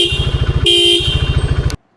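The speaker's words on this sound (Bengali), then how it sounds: "ডুয়েল হর্নের এই রকম সাউন্ড থেকে" A motorcycle dual horn blares loudly and close up in a pulsing two-tone blast, shifting pitch midway and then cutting off abruptly after under two seconds.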